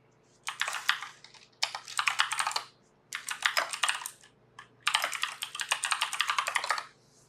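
Philco mechanical keyboard being typed on: four bursts of rapid clicking keystrokes, close and crisp, separated by brief pauses, over a faint steady hum.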